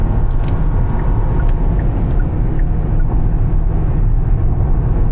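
A 2026 Hyundai Santa Fe SEL accelerates hard on the highway, producing a loud, steady low engine and road roar with strong rumble inside the cabin, no voices.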